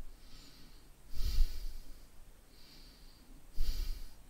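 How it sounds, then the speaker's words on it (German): Two heavy, exaggerated breaths blown close into a microphone, each a loud puffing rush separated by softer airy breathing. "ein wenig übertriebenen Atemgeräuschen"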